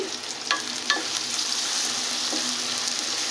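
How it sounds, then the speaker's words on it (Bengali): Chopped onion fries in hot oil for a beef biryani, giving a close, continuous sizzling hiss with a few sharp crackles and stirring clicks early on. "এখন আমি পেঁয়াজ কুচিটাকে ফার্স্টে ভালো মতো ভেজে লাইট ব্রাউন করে নিব"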